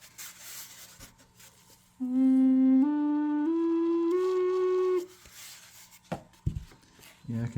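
A homemade flute made from a cardboard tube plays three sustained breathy tones, each held about a second and stepping upward in pitch. The notes stand out loud and close, with quiet room noise before and after.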